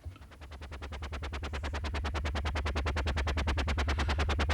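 A helicopter imitation synthesized on a Moog Grandmother, a rapid pulsing low thump repeating about seven times per second, swelling in from quiet and holding steady and loud throughout.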